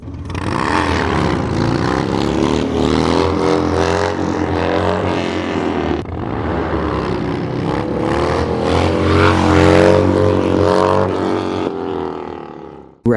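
A Harley Dyna motorcycle engine revs loudly and close during wheelie practice, climbing and falling in pitch in two long sustained pulls with a brief break between them.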